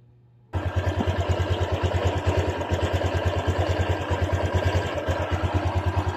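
A Honda Click 125 fi scooter engine with a worn connecting rod starts abruptly and idles loudly nearby, with a fast, regular knocking pulse running through its running sound.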